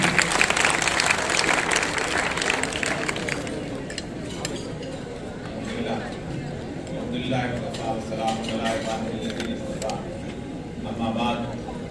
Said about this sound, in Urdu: آپ تمام خواتین حضرات سے گزارش کروں گا بھرپور تالیوں میں استقبال کیجئے